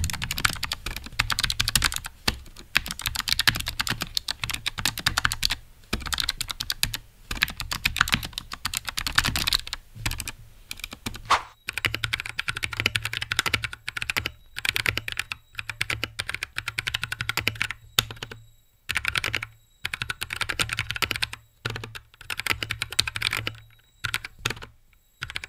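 Typing on a mechanical keyboard with hot-swap switches gives a steady, close run of crisp clacking keystrokes with brief pauses, heard alone without talk.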